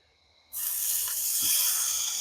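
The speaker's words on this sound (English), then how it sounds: "Nothing like that sizzle." A steak suddenly starts sizzling on a camp grill at Jackson Lake Island, a loud, steady crackling hiss that begins abruptly and keeps going.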